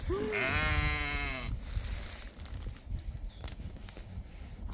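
A friendly group of sheep bleats on a farm, one long loud wavering bleat up close followed by quieter rustling and shuffling movement.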